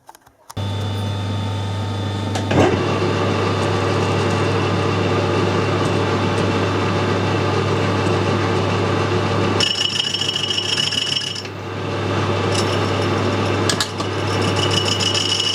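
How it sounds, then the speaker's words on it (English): A Porsche wheel spacer is machined flat on its face, a continuous loud grinding, scraping cut over a steady motor hum, with a brief clunk early on and a short lull and shift in tone near the end. "I'm going to machine this face first, get it nice and flat"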